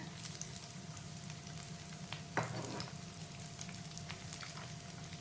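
Leftover-rice snack fries steadily in oil over a medium flame, a continuous close sizzle with small pops and one brief scrape or stir partway through.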